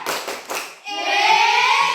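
A group does a rhythmic 'tepuk semangat' cheer clap during a morning classroom session, a few sharp synchronized claps followed by a sustained chanted voice ringing out close and loud.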